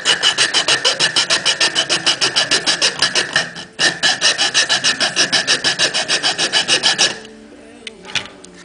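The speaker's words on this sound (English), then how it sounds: "I take my wood rasp to flatten it out and get it to the proper depth" Wood rasp filing a piece of wood flat, fast regular back-and-forth rasping strokes, loud and close, with a brief pause midway and quiet handling sounds once the strokes stop near the end.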